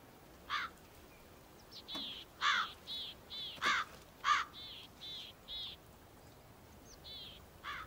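A white crow caws in the open, a series of around a dozen harsh, separate calls spaced irregularly, moderately distant and fairly faint over a quiet background.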